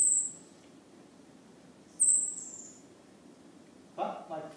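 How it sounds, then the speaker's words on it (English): Superb fairy wrens give high, thin contact calls from two different birds, two short bright notes about two seconds apart, with a brief low rustle or murmur at the end. "It's called a contact call, and fairy wrens use it to keep in touch with each other while they're out foraging"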